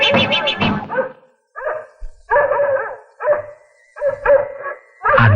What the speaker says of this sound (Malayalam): ആ നശിച്ച പട്ടി.